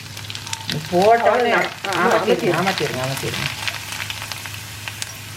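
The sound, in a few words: poha (flattened rice) frying in hot oil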